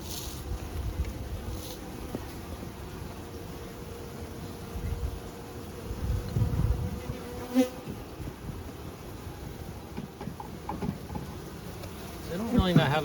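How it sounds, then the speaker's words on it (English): Honey bees from a newly installed package hum in a steady, droning buzz close by, with occasional louder passes and faint clatter, and no talking. "So that's a good pile of bees."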